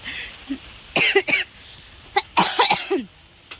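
Several close, harsh coughs from a person sick with fever and a cough come in two bursts, a pair first and then a quicker cluster of three or four, with quiet breathing between them.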